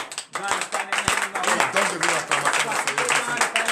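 A congregation at a morning prayer service stands and claps with acclamation, lively irregular clapping mixed with voices calling out, close and fairly loud throughout.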